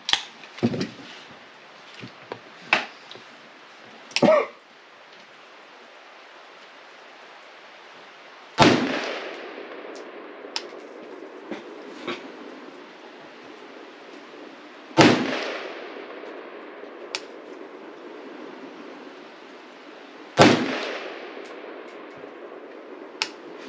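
Palmetto GF5 AK rifle firing Tula ammo outdoors: several sharp, loud single shots spaced seconds apart, each trailing off in a rolling echo, with quieter distant pops and clicks between them.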